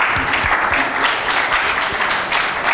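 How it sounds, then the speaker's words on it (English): Conference audience applause after a tech talk on wifi, a dense, loud burst of many hands clapping together, continuous and close. "And give them applause,"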